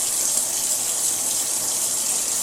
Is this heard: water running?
yes